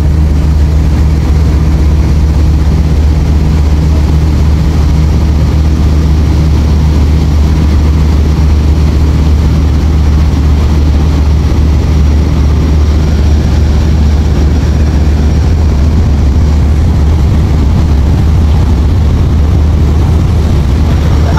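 A passenger launch engine racing on the Meghna river throbs in a loud, continuous low rumble with a steady hum and wind-like wash, unbroken for over twenty seconds and without talk.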